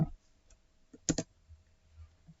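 Computer mouse double click while working in an Excel spreadsheet: two quick, close clicks in a single burst, fairly soft, with a faint extra tick just before and quiet room noise around them. No talking.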